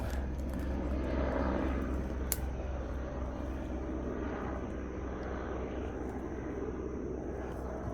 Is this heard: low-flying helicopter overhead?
yes